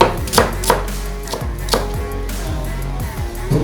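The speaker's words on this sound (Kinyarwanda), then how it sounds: "Noneho ugakata igitunguru cyawe." A knife chops onion on a board in a quick, uneven run of sharp close taps, about a dozen strikes with no voices.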